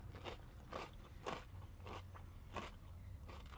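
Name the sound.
biting into a crunchy golden snack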